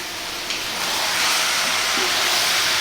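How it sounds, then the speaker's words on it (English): Chicken pieces frying in a pan for an Indian restaurant-style chicken curry, a steady loud sizzling hiss with faint scraping of stirring, and no talk. "We're going to throw this around in the pan, again stirring fairly often for about 8 minutes."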